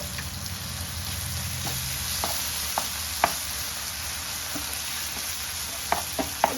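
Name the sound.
stirring small fish frying with coconut paste in a pan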